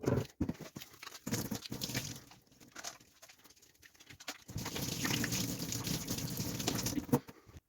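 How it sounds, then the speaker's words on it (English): Hands are washed with soap under a running tap: quiet, broken splashing and rubbing at first, then a steady close stream of running water from about the midpoint to the end. "Wash your hands, yeah? 20 seconds, some hand soap, and off we go."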